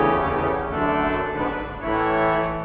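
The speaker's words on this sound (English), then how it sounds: "trumpet 8," The trumpet 8 stop of a five-manual Austin pipe organ in a church plays sustained brassy reed tones with rich harmonics, a held note shifting to another partway through, loud and alone.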